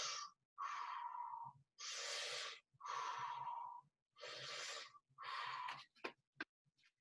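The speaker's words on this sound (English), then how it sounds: "belly breathing basically just means, instead of using your chest where the hand on my chest would move, you breathe like this" A runner demonstrates belly breathing with six slow, even breath cycles, each a long airy inhale or exhale separated by short pauses, close and quiet, followed by a few brief sniffs at the end.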